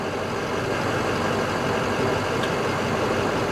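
A truck engine idles with a steady, even rumble while building air brake pressure, a continuous close drone with no talk over it.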